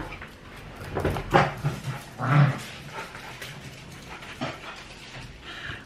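Several excited dogs chase each other through a house and garden, giving scattered yips, whimpers and soft barks over a busy, shuffling background.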